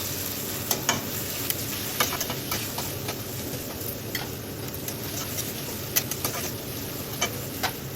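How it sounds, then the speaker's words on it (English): Finely chopped tomatoes cooking with onions in a pan for pav bhaji, giving a constant dense sizzle with occasional light clicks of a stirring spoon, steady and close, no talking. "Cook them for 2 to 3 minutes until they become soft and blend well with the onions."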